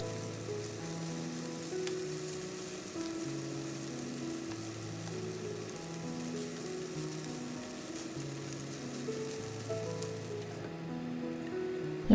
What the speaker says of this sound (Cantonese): 第2面都煎下佢。